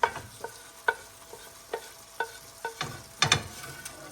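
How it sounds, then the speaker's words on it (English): Pre-cooked ground beef for chili stirred with a spoon, a series of distinct scraping strokes about every half second with light sizzling between them, close and fairly quiet, with no talking. "I think we're ready to mix the beef"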